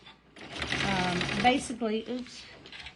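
Sewing machine running steadily while stitching a quarter-inch seam on a car trash can quilting project, a continuous close buzzing whir lasting about a second and a half, then a person talking over quieter machine sounds.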